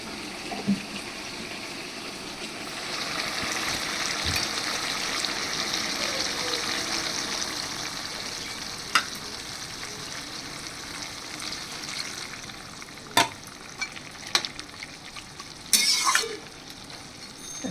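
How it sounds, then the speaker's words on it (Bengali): Oil is poured into a pan before poppy seed paste goes in, frying for a vegetable dish with pumpkin stems. A steady sizzle and stirring run throughout, ending in a few sharp utensil knocks and clatter near the end. "এবার পোস্ত বাটাটা দেওয়ার আগে আমি তার মধ্যে দিয়ে দিচ্ছি কিছুটা তেল।"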